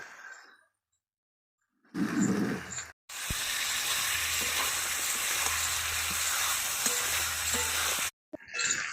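Chicken biryani masala with coriander leaves sautés in a pan, a loud close sizzle interrupted by abrupt silent breaks, with repeated scraping strokes of stirring under the steady frying.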